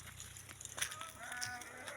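A cow gives a short, faint low moo, heard briefly against quiet rural background noise.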